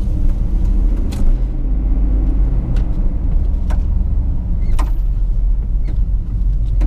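A heavy Chevy HHR's engine drones and labours steadily while driving, a continuous low rumble with road noise and a few faint clicks over it, with no talk.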